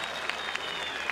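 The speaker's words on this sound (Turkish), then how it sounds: "Muhteşem orkestra için bir alkış daha alabilir miyim?" An audience at a concert in Bergama applauds the orchestra briefly, a soft, brisk patter of clapping from a crowd heard at some distance, with a few sharper individual claps standing out.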